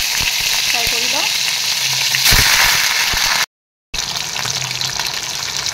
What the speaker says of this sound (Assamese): মাছ 2 পিস অলপ ফ্ৰাই কৰি লওঁ